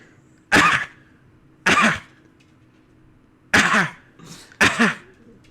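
A person imitates exaggerated coughing, four loud, harsh coughs close to the mic with pauses between them, the last two coming in quick succession.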